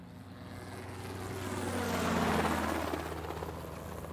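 A helicopter hovers overhead as a continuous rotor drone and chop that swells louder toward the middle and then eases back, heard outdoors with no talking.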